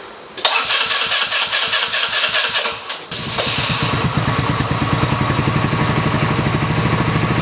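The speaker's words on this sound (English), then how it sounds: "let's see if she'll start. Probably take a minute to pull that fuel down in that filter." A Zircon 150cc go-kart engine cranks with a rapid rhythmic pull for about three seconds, then catches and settles into a loud, steady running putter close by, no talk.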